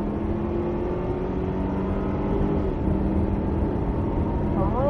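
A Cadillac CTS-V pulls hard at full throttle around a race circuit, its engine a steady, sustained roar with rising pitch heard from inside the car.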